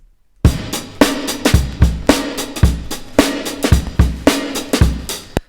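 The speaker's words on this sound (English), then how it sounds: "So the first one we got is the Dark Hall break" Dark Hall drum break, a classic rap backbeat: punchy kick and snare hits in a steady looping groove with bright cymbal wash, loud and close, about eleven hits over the span with no voices.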